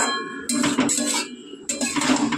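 A metal lid is set onto a cooking pot of potatoes left to boil, giving two close clanks about a second apart, each with a brief metallic ring, against steady kitchen background.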